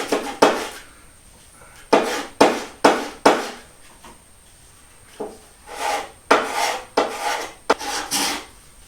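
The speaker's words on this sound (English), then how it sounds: "So I'm going to go ahead and sand it a little bit more." Hand-sanding a wooden zero-clearance throat plate for a table saw: repeated rasping strokes in short bursts with pauses between them, close and fairly loud, with no talking.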